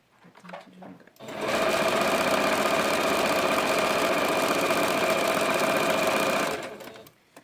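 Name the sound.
sewing machine stitching along the edge of fabric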